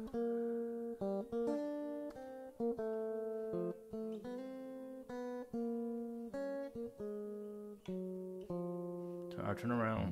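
Clean guitar plays a tune's bridge as a sequence of distinct plucked notes and arpeggiated chords at an even pace, close and clear, with a brief strum at the end.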